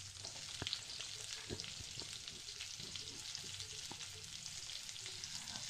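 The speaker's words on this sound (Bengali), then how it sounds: "প্রথমে কড়াইয়ে তেল দিয়ে দিলাম পেঁয়াজ কুচি," Chopped onions frying in oil in a wok, a quiet, continuous sizzle with faint scrapes and small pops, heard alone without any talk.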